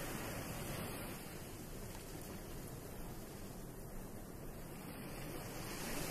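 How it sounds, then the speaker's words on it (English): Ocean waves at a seafront wash in a soft, continuous hiss, quiet and even, with no clear breaks and no voices. "The sounds of the waves are hypnotic, and the more you listen, the more your breathing relaxes."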